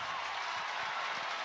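A softball crowd at a college super regional game, heard right after a base hit up the middle, gives a steady, distant wash of cheering and applause that holds at an even level throughout.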